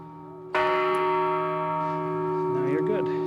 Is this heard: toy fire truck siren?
no